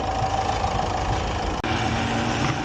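A Renault Captur SUV engine idles steadily just after starting, a constant loud low hum with no talking over it.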